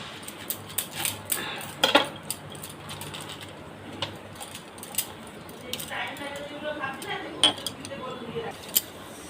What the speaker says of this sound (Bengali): ফুলকপি কাটছি